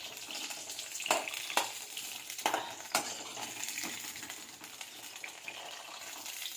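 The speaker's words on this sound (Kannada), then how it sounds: "ಈ ಥರ ಫ್ರೈ ಮಾಡ್ಕೊತಾನೆ ಇರಬೇಕು ಎಣ್ಣೆಯಲ್ಲಿ" Sliced bitter gourd sizzles in hot oil as a spoon stirs it, with a steady frying hiss broken by several sharp scraping clinks of utensil against the pan.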